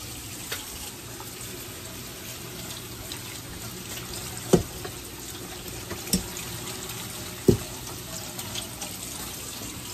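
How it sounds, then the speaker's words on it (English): Spinach rinsed in a kitchen strainer under a running tap, a steady hiss of water with a few soft knocks and clunks as the leaves and strainer shift. "we're just gonna toss some of these, some spinach in the strainer so that we can strain it"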